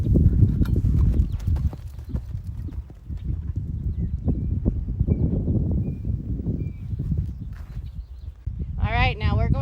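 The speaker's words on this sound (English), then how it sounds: "we're going to establish our nice working canter here." Steady rhythmic hoofbeats of a horse cantering close by, a continuous three-beat drumming on soft ground, with a short burst of bird chirps near the end.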